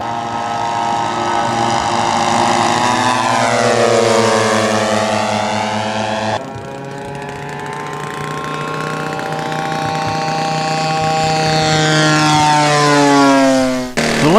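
A Miles Master propeller warbird flies over an airfield at Rednal: a loud, sustained piston-engine drone that sweeps up and down in pitch as the aircraft passes, fades briefly, then builds again with another Doppler sweep.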